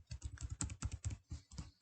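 Fast typing on a computer keyboard while renaming a test step in test automation software, a quick run of soft, close key clicks in uneven bursts with short pauses and no speech.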